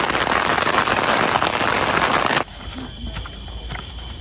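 Rain falling at a family campsite at Merapi Land amid thick fog, a dense, loud patter of drops on surfaces that cuts off abruptly partway, leaving a quieter background.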